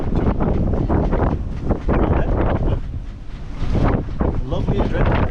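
Strong 30-knot wind buffets a sailboat between Tenerife and a neighbouring island, heavy gusting roar and rushing water close on the microphone, rising and dipping in waves over a few seconds.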